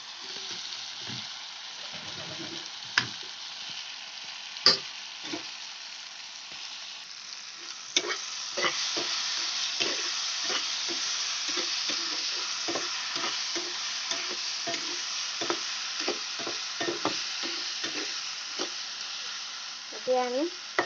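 Spices frying in a pan for a summer mango recipe, a constant hiss and sizzle with frequent scraping stirs of a spoon, close and clear, with a faint voice under it.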